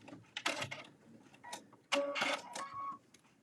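A sewing machine runs in two short bursts of whirring, rattling stitching, top stitching with a twin needle and contrasting colored thread, close and fairly loud with no talking.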